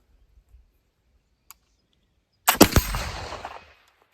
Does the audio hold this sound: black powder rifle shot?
yes